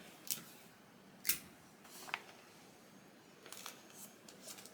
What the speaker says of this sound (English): So I'm just kind of taping this image down to the butcher paper.